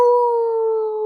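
A person mimics a werewolf howl: one loud, sustained tonal wail held steady for about a second, close to the microphone and alone.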